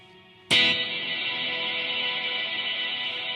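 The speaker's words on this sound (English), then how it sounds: "So it really like ramps up there, which makes for a really nice washy reverb" An electric guitar through a Holy Grail reverb pedal: after a quiet start, one sharp strum bursts in and blooms into a bright, washy sustained reverb that hangs at steady volume.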